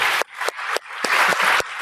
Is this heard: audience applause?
yes